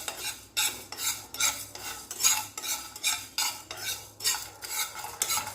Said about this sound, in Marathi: आता सगळे सुके मसाले एका कढईत टाकून घेऊया आणि छान भाजून घेऊया कमी गॅसवर